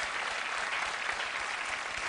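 Sustained clapping from a CBS late-night talk show studio audience, a thick, uniform roar of applause that holds level throughout.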